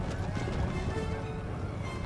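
Cuirassier cavalry of the 36th Horse Guards charge in Empire Total War, a dense rumbling mass of hoofbeats and battle noise that holds steady and loud without a break. Faint voices may sit somewhere under the din.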